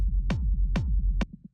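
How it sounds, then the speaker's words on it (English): Acid techno drum loop pushed through a drum bus for extra thickness: heavy, fattened kicks with crisp tops repeating over a busy low rhythmic pulse, loud and solo, ending on a shorter hit and a few soft trailing taps. "This is basically just adding some more kind of like thickness to the sound."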